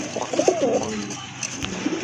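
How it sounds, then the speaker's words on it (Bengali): Desi Bombay pigeons coo up close, one clear warbling coo followed by softer murmuring coos trailing off against a quiet background. "এটা কি ভাই দেশি বোম্বাই? জি ভাই, আমাদের দেশি বোম্বাই।"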